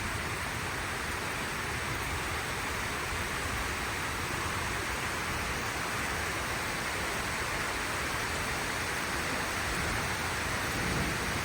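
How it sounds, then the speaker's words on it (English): Steady rain pours around a covered deck during a thunderstorm, a dense, even hiss of falling water that holds constant throughout with no clear thunder crack standing out. "I do like storms."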